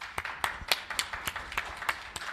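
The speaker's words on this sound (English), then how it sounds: "Let's give a round of our applause to our speakers." Sparse hand claps from a small audience applauding speakers, about eight to ten sharp claps in an uneven rhythm, fairly close.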